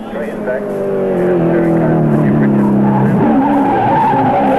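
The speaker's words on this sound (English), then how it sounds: "tyres squealing out towards the wall" A Cadbury Schweppes-sponsored touring race car at the 1983 Bathurst 1000 on Mount Panorama, its tyres squealing loudly in a sustained skid over the engine roar, with a commentator talking over it.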